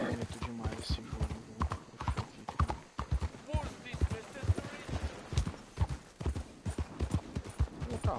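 Horse hooves clip-clop at a walking pace in Red Dead Redemption 2, an irregular run of close, distinct hoofbeats heard under a person talking.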